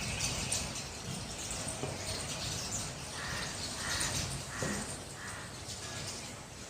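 Birds, including sparrows, call faintly from a distance, with scattered caws and chirps over a steady outdoor hiss.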